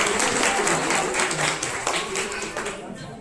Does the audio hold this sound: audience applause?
yes